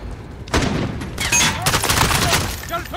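Dense gunfire and machine gun bursts in Call of Duty Modern Warfare, a continuous fusillade of overlapping shots close and loud from start to finish, with shouted voices mixed in.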